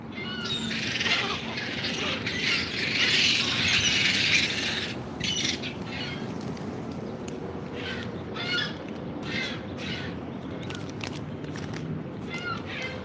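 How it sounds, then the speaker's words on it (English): Seagulls squawking loudly as they feed: a dense, harsh cluster of calls for the first few seconds, then scattered sharp squawks repeating over a constant low background rumble. "them seagulls, man, they make a loud noise when they eat."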